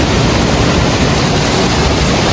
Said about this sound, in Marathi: असा धबधबा इथे बघायला मिळतो